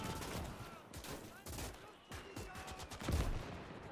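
Gunfire in the Gates of Hell WW2 battle game: scattered rifle and machine-gun bursts from several directions, with a heavy thump near the end, fairly distant and mixed with battle ambience and a faint voice.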